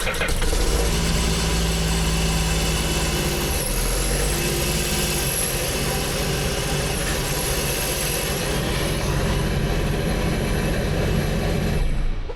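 A brand-new 2024 Sea-Doo RXP-X with a Rotax engine fires up and settles into a steady, loud idle, a dense mechanical drone that keeps going with no talk over it.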